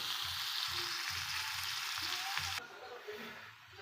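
Goat mutton sautéing in spiced oil in a pot: a close, steady sizzling hiss with low rhythmic thuds under it, then the hiss drops off suddenly and a softer sizzle carries on alone.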